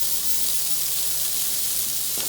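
Mirepoix vegetables sizzling in a hot pan, a steady bright crackling hiss throughout, close and fairly loud.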